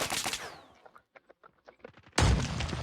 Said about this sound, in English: Why is he shooting at me?